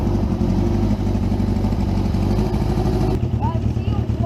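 A Suzuki GS550 rat bike motorcycle engine idles steadily and close up with a low, even rumble, after a carburettor adjustment; a brief voice and a faint chirp come in near the end.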